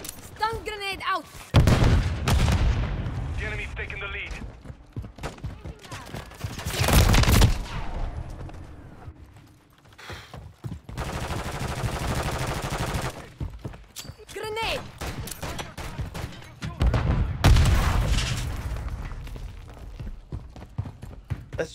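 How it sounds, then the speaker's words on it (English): Frag and stun grenade explosions in the video game Modern Warfare 3 burst out loudly in several heavy blasts amid rapid gunfire and chaotic battle noise, with a voice talking over the action. "Frag out. Stun grenade out."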